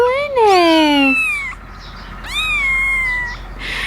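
A tiny newborn farm kitten, eyes just opened, gives two loud, close, high-pitched drawn-out meows separated by a short pause.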